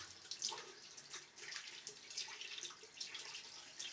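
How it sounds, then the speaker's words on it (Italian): Water from a running tap is scooped and splashed onto a face during a wet shave, a faint, close series of wet splashes and trickles. "Vado a inserire ancora altra acqua nel viso per l'ultimo passaggio"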